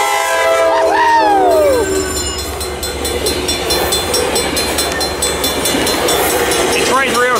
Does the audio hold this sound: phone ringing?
no